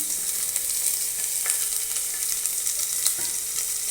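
Garlic, mustard seeds and urad dal sizzle in hot oil for a bitter gourd fry, a steady, fairly soft hiss with occasional faint crackles and no talk.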